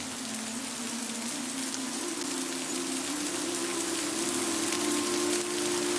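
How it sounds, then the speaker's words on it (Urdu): Heavy torrential rain pours down in an unbroken, loud wash of hissing drops, with a faint steady low hum running underneath and no voices. "موسلادھار بارش ہونے لگی."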